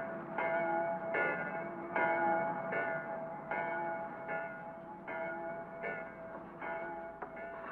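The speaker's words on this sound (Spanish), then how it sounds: "¿Oyes las campanas de la iglesia?" Church bells ring out over a small village, a steady series of measured, resonant strikes repeating evenly, moderately distant and heard alone without voices.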